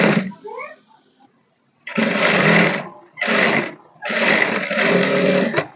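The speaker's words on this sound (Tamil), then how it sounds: "இப்போ இந்த கழுத்து பீஸ் மேலே படிமான தையல் போடணும்." A sewing machine stitches a blouse neck piece in loud bursts of whirring, starting and stopping several times with short pauses between runs, close by and alone.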